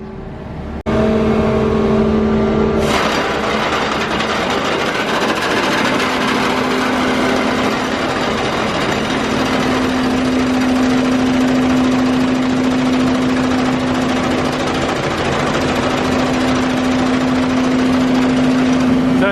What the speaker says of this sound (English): Being pumped around through this tube here, and it's then being put through a hydraulic auger